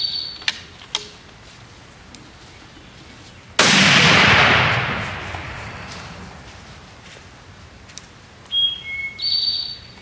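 One sharp muzzleloader shot firing a Powerbelt bullet through a chronograph outdoors, a sudden loud crack whose roar decays over a couple of seconds, with faint bird chirps before and after.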